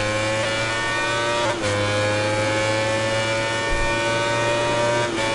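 Bike engine in the MotoGP 19 racing video game, a loud sustained high-pitched whine holding steady across the lap with brief dips at gear shifts, no talk.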